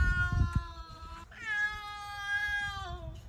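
A cat at a house door gives a long, drawn-out, angry meow, near and fairly loud, followed by a second rising wail after a few soft thumps.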